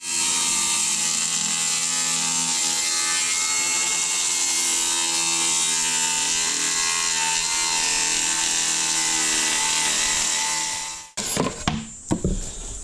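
A power tool cuts an access hole through a panel in a Ford Bronco, grinding and rasping loudly and steadily for about eleven seconds before stopping, followed by a few scattered knocks and clatters.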